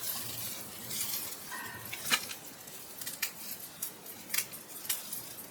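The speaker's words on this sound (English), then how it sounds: "so I have to clean this up and also chop off the head of the salvia" Garden shears snip through salvia stems during front-garden trimming, a string of crisp close cuts at an uneven pace, with faint rustling of foliage between them.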